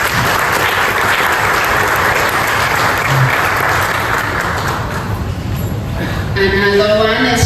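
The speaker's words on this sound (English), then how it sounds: "May we please give her a big round of applause" A live audience applauds loudly and steadily as a woman is welcomed onto the stage at a university career expo talk show, with a dense wash of clapping throughout and a brief voice rising near the end.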